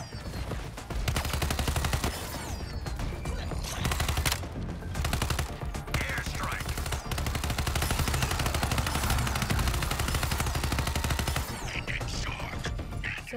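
Video game combat with an airstrike: sustained rapid gunfire and mechanical rattling, loud and dense throughout with heavy low rumble, broken by brief gaps, and no clear talk.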